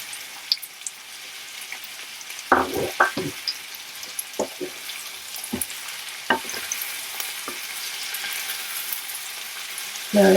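Long-cut tomatoes fry in a pan, sizzling softly while a ladle stirs and tosses them, producing several sharp scrapes and knocks over the continuous crackle.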